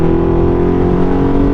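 Motorcycle engine with a fresh SC Project exhaust, loud and close, holding a steady droning tone as the rider matches revs through a gear shift.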